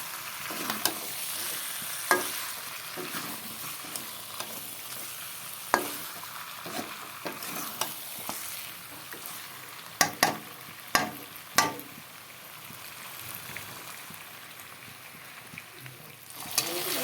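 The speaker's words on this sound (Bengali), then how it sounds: "এখন আলুগুলোর সাথে একসাথে চিকেনের সাথে মিশিয়ে নেব" Chicken frying in a pan with fried potatoes and onions, stirred with a spatula: a low sizzle runs under sharp, irregular scraping clacks, close and fairly quiet.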